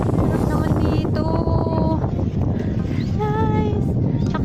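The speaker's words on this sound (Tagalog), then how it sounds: "Shucks ang hangin." Steady wind roars across the microphone on a bridge on Sentosa Island, Singapore, buffeting loudly and continuously while a person talks over it outdoors.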